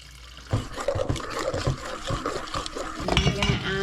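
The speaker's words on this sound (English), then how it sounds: "What you're gonna do is you're gonna add a little water." Water poured into a sourdough-style flour batter in a home kitchen: uneven splashing and trickling with soft clatters over about four seconds, fairly close, with no talking.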